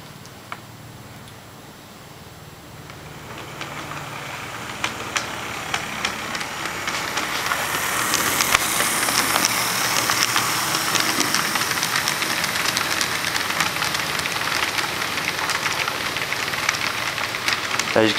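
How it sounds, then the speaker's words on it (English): A train passing a railway signal: a low rumble grows from quiet to a loud, sustained roar of engine and rail noise with scattered clanks and knocks. "once the train passes it, it switches to a red."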